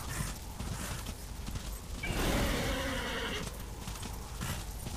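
Horse galloping with hoofbeats and a neigh in the Darksiders video game, a steady rumbling ride with a louder whinny around the middle, under continuous game sound.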